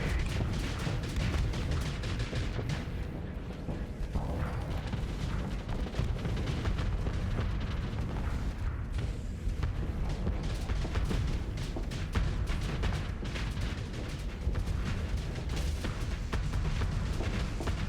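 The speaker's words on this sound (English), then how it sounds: "Torpedo." Torpedo explosions in the space combat game Starsector, dense continuous rumbling booms and blasts that roll on without a break, loud and close with no pause.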